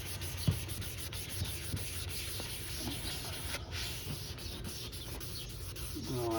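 Wet sanding of a Pontiac G6 headlight lens with 600 grit sandpaper makes a soft, continuous scratchy rubbing, faint and close, with a few light taps along the way.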